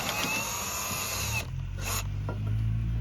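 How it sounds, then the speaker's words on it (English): A power drill whines at high speed drilling a new hole for a pop-up camper's awning support foot, steady and close, then pauses briefly and restarts under a low mechanical rumble. "I'm drilling a new hole."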